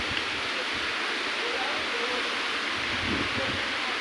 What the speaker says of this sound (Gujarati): જો આ અમારી વાડી છે, એમાં વરસાદ ચાલુ છે